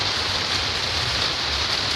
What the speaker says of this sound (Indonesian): Ini hujan pertama kita.